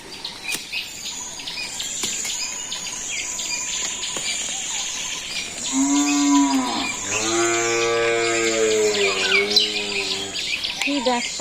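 Cattle low in a village after rain, with several long, loud moos in the middle stretch, set against constant insect chirring and occasional bird calls.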